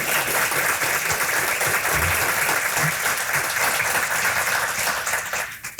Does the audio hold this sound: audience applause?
yes